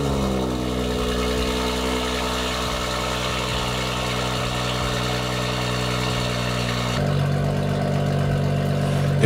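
BMW M140 with the B58 engine idling after a coolant bleed: a steady mid-low hum that holds evenly, then shifts to a slightly different pitch near the end as the revs settle, with no talk.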